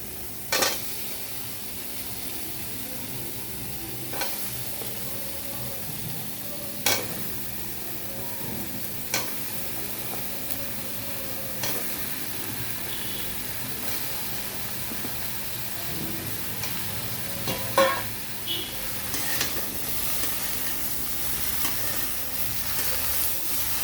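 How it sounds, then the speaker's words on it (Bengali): Ridge gourd is stirred into sizzling spice paste in a frying pan for a tilapia fish curry. A steady close sizzle runs throughout, broken by scattered scrapes and clinks of the spoon against the pan, with no talking. "এখন আমরা যে ধুন্দল করে রেখেছিলাম সেগুলো দিয়ে দিব"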